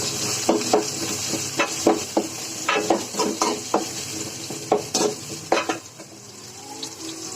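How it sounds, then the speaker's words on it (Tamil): Chopped small shallots sauté in a pan, with a low background sizzle broken by repeated scraping stirs and light clinks of a spatula against the metal. "ஒரு 10-15 சின்ன வெங்காயம் கட் பண்ணி வச்சுருக்கேன், அது போட்டுக்கிறேன். இதை நல்லா வதக்கிக்கலாம்."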